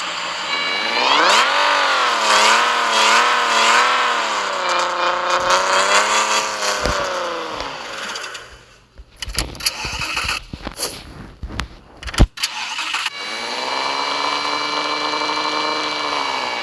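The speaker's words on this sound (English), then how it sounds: "is a powerful Camaro. You can see it when I put power in." An 830-horsepower Camaro in a racing video game revs hard under power, its engine whine climbing and wavering in pitch, then breaking into clattering bursts before a steady rev returns.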